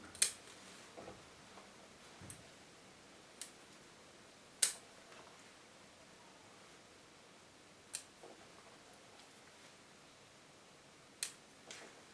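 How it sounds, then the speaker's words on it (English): Pointed scissors make sparse, faint snips and clicks while trimming the wiry roots of a Masdevallia orchid, with quiet pauses between the short, crisp cuts. "pointed scissors give me so much control, because they are a very precise tool"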